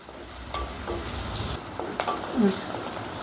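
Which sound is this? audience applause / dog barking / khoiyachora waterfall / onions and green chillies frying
onions and green chillies frying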